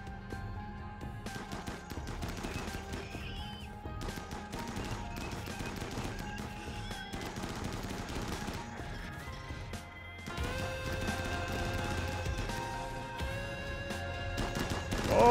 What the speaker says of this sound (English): Oh, those masterwork guns.